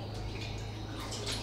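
Eco-friendly, plant-based liquid laundry detergent pours into a washing machine, a close, steady trickling splash over a low hum.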